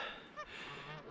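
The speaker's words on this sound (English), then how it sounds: "The geese are here." Geese honk a few times in a loose cluster in an open spring field with snow still on a nearby ski hill, moderately distant nasal calls over a soft outdoor background.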